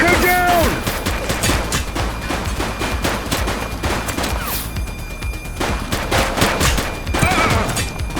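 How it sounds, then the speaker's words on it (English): Gunfire erupts during a bank robbery in The Precinct, rapid volleys of close, loud shots crackling in quick succession, with shouting voices over them. "Shots fired!"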